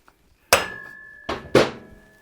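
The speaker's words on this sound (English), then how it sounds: "you can tap the axle out" Three sharp metallic hammer strikes tapping an axle out of a Harley-Davidson Sportster/Dyna fork, one solitary tap followed by two heavier blows close together, each leaving a faint ringing tone.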